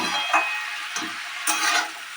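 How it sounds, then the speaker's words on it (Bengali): Broad beans frying in oil with five-spice being stirred in a pan, steady sizzling broken by three distinct scraping strokes of the spoon, close and alone without talk. "এই শিমটাকে আমি ঢাকনা দিয়ে আগে আস্তে আস্তে এরকম নাড়তে নাড়তে কষতে কষতে সেদ্ধ করে নেব।"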